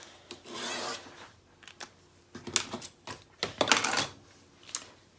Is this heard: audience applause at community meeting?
no